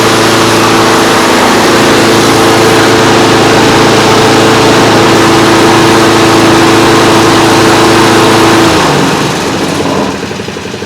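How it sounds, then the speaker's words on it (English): A trash-picked Craftsman lawn mower engine runs steadily at close range, burning off excess oil inside a garage, with a loud continuous drone that dips and roughens near the end. "I'll let it run for a little while and burn off all the excess oil and smoke up my garage."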